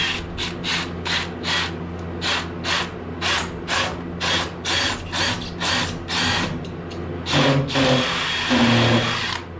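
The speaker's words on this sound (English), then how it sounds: "Just have to drill in there a couple of times." A power drill boring through an ICF (insulated concrete form) wall grinds in repeated short bursts, loud and close, with a steadier whir toward the end.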